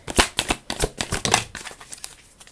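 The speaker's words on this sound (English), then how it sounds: "Should we get another card? Let's get 2 cards out." Tarot cards being shuffled and drawn from a deck: a quick series of crisp papery snaps and riffles, close and fairly loud at first, then softer and sparser.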